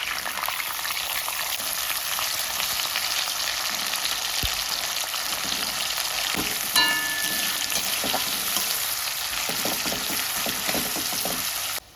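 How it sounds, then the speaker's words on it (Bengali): Onions hiss in hot mustard oil with a continuous, even, close-up sizzle for the whole stretch. A few soft knocks of a utensil break through the middle. "সর্ষের তেল দিয়ে দিয়েছি এখন পেঁয়াজ দিয়ে দেবো"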